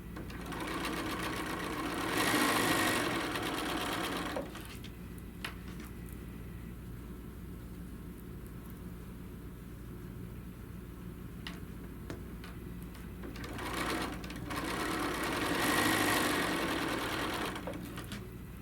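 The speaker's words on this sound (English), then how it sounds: "we're gonna flip the block around, and we're just gonna go ahead and sew 4 of those" A sewing machine stitches a quilt block in two fast, steady runs at the start and end, with quieter mechanical ticking and handling noises in between, close and clear.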